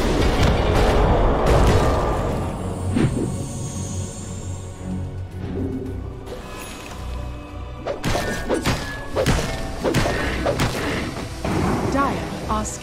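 A tower under attack in the Dota 2 battle scene rings with repeated heavy thuds, crashes and impact booms at uneven intervals, mixed with game effects and an announcer voice.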